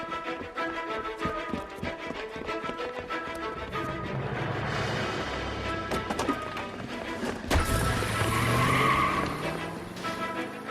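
A 1940s-style car in L.A. Noire races along with a steady engine drone, then tires squeal and skid loudly near the end, with crunching impacts and no talk.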